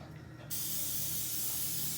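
A quiet hiss cuts in suddenly and becomes a steady, continuous spray of aerosol adhesive onto a zip tie's sticky side, continuing to the end.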